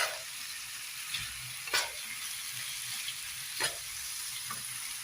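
Beef curry stirred in a sizzling pan, with a constant soft frying hiss and a few scraping strokes of the spoon at irregular intervals, fairly quiet.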